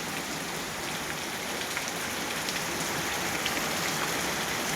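Steady unseasonal rain falls continuously on a village, a dense even patter of drops on surfaces with no other sounds.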